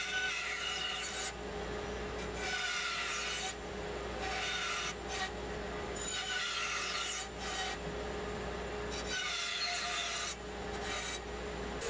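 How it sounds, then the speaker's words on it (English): A wooden staff is carved freehand to take the hard edges off, giving repeated rasping, rubbing strokes in rhythmic bursts over a low steady background hum. "I can kind of freehand carve some of the hard edges off the corners and make it just a little bit more round."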